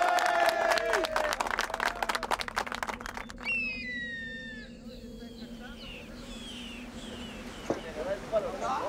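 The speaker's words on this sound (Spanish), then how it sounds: "queremos un aplauso de energía para que nos vaya bien en esta" Crowd applause on the Juan Fernández islands, a dense burst of clapping that fades out after a few seconds, followed by wind, water and distant cries.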